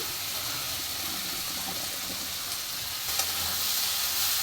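Small chuno fish go into hot spiced oil in a pan, giving a steady, moderately loud sizzle and hiss with a slight rise toward the end and no voices.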